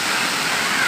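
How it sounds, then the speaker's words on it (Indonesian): Taipa waterfall at Tompobulu, Maros, a steady broadband rush of falling water filling the whole second, close and constant with no break. "Ini namanya air terjun."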